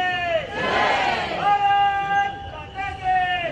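A large outdoor crowd at a political rally in Viramgam roars and cheers in a dense, sustained swell, with raised voices and shouted chants rising over the babble.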